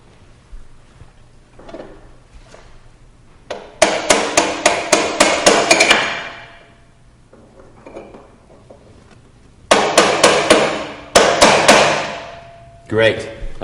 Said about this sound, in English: Now let's tighten the lock ring so the preload adjuster can't back off while you ride the bike.